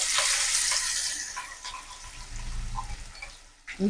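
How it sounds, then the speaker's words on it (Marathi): Cumin and whole spices crackle in hot oil, followed by ground masala and curry leaves for a rajma masala, with a bright sizzle that fades while a spoon stirs and knocks near the end. "तेल छान गरम झालं की जिरं आणि काही खडे मसाले घालून घेते."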